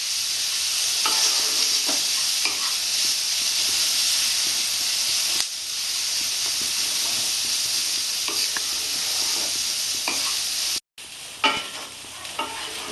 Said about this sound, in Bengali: একটু ভাজা ভাজা করবো পেঁয়াজটা একটু পেঁয়াজটা লাল লাল করে ভাজবো